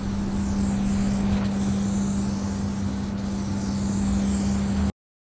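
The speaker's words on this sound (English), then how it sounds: "Now I have to spray the 2K high build primer as thick as possible" A spray can applies thick 2K high build primer to a repair panel in one continuous, close, loud hiss that lasts about five seconds and then stops abruptly, with no talk.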